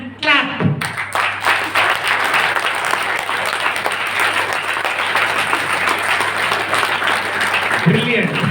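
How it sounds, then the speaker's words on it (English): An audience at an entrepreneurship training event claps hands together in sustained, dense applause lasting several seconds, with a voice speaking briefly at the start and end. "feel free to bring your hands together and clap"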